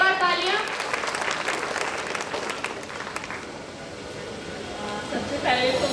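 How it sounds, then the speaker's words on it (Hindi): Audience claps at a school event in India, a broad burst of applause that swells and carries on for several seconds, with a voice talking over it near the start and again at the end. "एक बार तालियां।"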